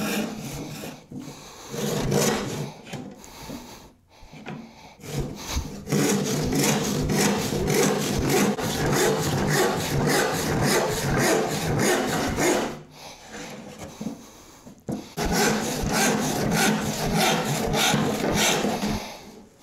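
A hand rip saw cuts through scrap wood in long, steady rasping strokes, loud and close, with short pauses between bursts of sawing and no talk.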